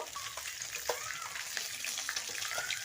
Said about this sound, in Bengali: আমার মাছটা প্রায় ভাজা হয়ে এসছে